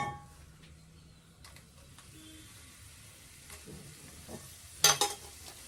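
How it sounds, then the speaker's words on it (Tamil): Dried red chillies and curry leaves crackle in hot oil with a low, even sizzle, then a brief louder burst of scraping near the end. The sound is quiet and close, with no talking. "இதில் 2 காஞ்ச மிளகா, கருவேப்பிலை கொஞ்சம் சேர்த்துக்கோங்க."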